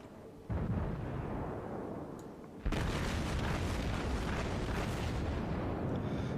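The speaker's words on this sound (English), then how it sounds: "Have some armor-piercing loveliness." Naval artillery firing in World of Warships: a heavy boom at the start, then a second louder blast that spreads into a broad, sustained roar filling the rest of the moment, loud and close.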